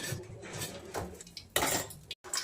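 A spoon clinking against a pan and container while ghee is added, close, light metallic taps and scrapes in a quick, irregular sequence with a brief silence near the end.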